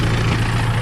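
A tractor engine idles steadily, a low, even rumble holding constant throughout with no talk over it.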